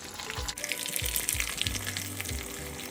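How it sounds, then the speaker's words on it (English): Food frying in a hot pan, with dense, rapid popping and crackling sizzle running steadily throughout, close and fairly loud, with no talk. "now we're gonna go ahead and fry it"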